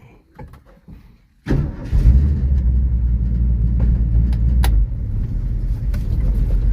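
A 1969 Ford Mustang coupe engine starts up after quiet moments, then settles into a loud, steady, rumbling idle close by, running continuously without talk.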